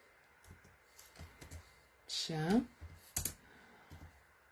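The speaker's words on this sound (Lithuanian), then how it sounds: "Tai dabar rašau čia." Faint, scattered clicks of typing on a computer keyboard, coming in short irregular bursts, with a brief voice speaking in the middle.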